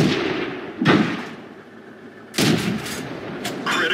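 Two booming tank cannon shots in World of Tanks, about a second and a half apart. Each is a loud blast with a rumbling decay, and a brief mechanical clatter follows the second.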